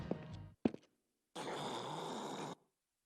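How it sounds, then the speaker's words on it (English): A man snoring in the video game Yakuza 0, with a few heavy, throaty grunting breaths at the start, then a pause, then one long, steady rasping snore. "And I can still hear him snoring in the background."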